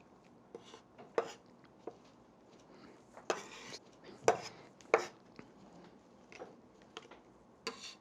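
Knife chopping meatball ingredients on a cutting board until minced, heard as scattered, irregular close taps and thuds with short pauses between them.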